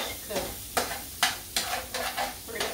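Sausage cooks in a pan for southern shrimp and grits, with a constant sizzle broken by six or seven distinct spatula scrapes at a roughly regular pace; no one speaks.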